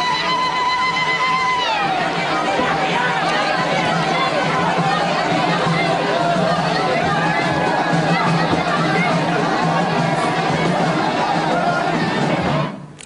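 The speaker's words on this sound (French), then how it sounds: "le JT montre en longueur la foule qui l'acclame tout au long du cortège" A crowd lines the route of Tunisian president Ben Ali's motorcade in Bizerte during a national holiday, a steady wash of cheering and chatter that holds loud and dense throughout, with a high sustained whistle or ululation near the start.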